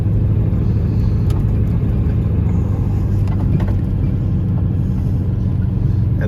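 A service truck with dual tanks runs on black diesel fuel, its engine droning in a loud, steady rumble throughout, with no voices over the continuous drive.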